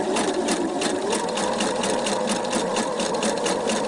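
A Pfaff sewing machine stitches piping into fabric with a piping presser foot, giving a steady, fast, close-up mechanical whir with an even rhythmic needle chatter throughout, no voices.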